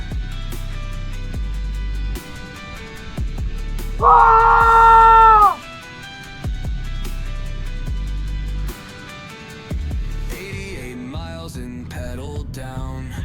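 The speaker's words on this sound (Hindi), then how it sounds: "जब भी मैं पहाड़ों पे आता हूँ, टॉप पे जाता हूँ, तो मैं चीखता लाजमी हूँ" From a mountain top above Gilgit city, a man lets out one loud, sustained scream of about a second and a half, followed later by shorter strained vocal bursts, all against steady wind.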